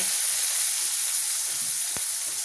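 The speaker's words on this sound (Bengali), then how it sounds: "মাশরুমটাকে তেলে দিয়ে একটু ভেজে নেব" Mushrooms sizzle steadily in hot oil in a pan, a continuous close frying hiss with one brief sharp clink partway through.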